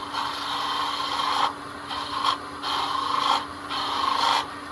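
A small detail gouge takes light cuts on wood spinning on a lathe while a snowman ornament is turned, giving a steady rasping scrape in several short passes separated by brief pauses.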